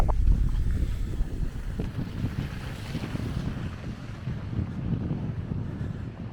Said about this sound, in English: And it's windy and quite chilly today.